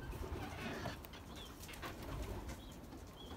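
Belgian racing pigeons in their loft, soft scattered cooing and faint bird calls over a constant noisy background, with occasional light rustling and wing sounds, all fairly quiet and close.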